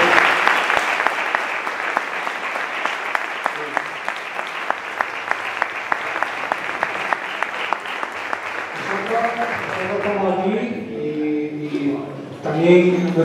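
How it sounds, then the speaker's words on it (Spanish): An audience at a round-table talk on safety claps for the teachers, with sharp, regular clapping up front over a broader crowd that gradually fades, followed by someone speaking. "os pido un fuerte aplauso para los profesores"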